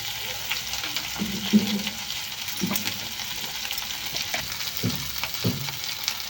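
Oil hitting a hot pan while fish is cooked, a continuous sizzle with several soft knocks and clinks of utensils spaced through it, moderately close, no talking.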